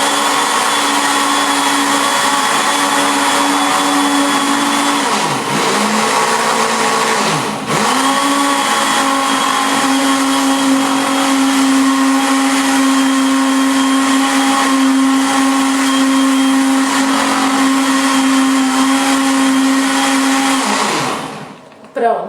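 A kitchen blender mixes basic homemade cake batter in a loud, continuous whir, briefly dipping in pitch twice as the load shifts, then winding down and stopping at the end.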